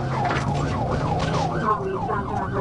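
A state police trooper's patrol car in Scott, Arkansas, pursuing a stolen SUV, sounds a loud, close siren whose rising and falling wail repeats rapidly over road and engine noise.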